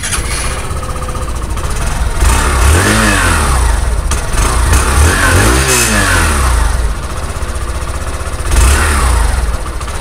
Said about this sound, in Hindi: एक बार आप एग्जॉस्ट नोट जो है सुन लीजिए बाइक का